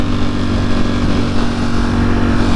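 A Lamborghini Huracan engine roars steadily and loudly nearby as it passes, a dense continuous rumble with sustained revving and no voices over it.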